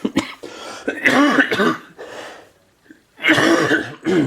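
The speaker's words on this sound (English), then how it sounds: "Excuse my cough again." Close, harsh coughing from a person with a cold in several rough bursts, with short quiet pauses between the fits.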